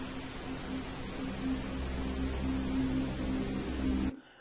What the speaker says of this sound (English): clearly the pink noise is too loud